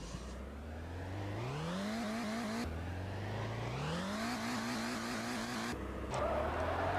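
A lowered Jetta in a multiplayer driving video game revs hard, its engine climbing through repeated gear shifts with some tire squeal. The sound stays loud and steady throughout, with no voices.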